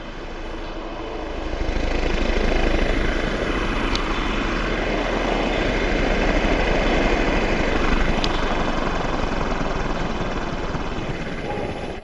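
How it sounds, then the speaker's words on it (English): An electric blower driving a wind generator model, turned down to a lower speed, gives a steady broadband whooshing whir with a low rumble, loud and close and unbroken, with no one talking over it. "I'm going to lower the revolutions of the blower"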